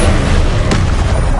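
Incendio fire spell cast in the Hogwarts Legacy video game: one short, sharp burst rising out of a steady, dense wash of game noise, loud and close.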